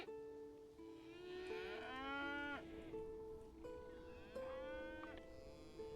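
Several drawn-out cattle moos in the colony-building game Songs of Syx, loud and close, with two long calls rising and falling over a steady game music background.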